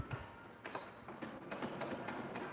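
A sewing machine runs in short, quiet bursts of rapid mechanical clatter, with brief pauses between stitching runs.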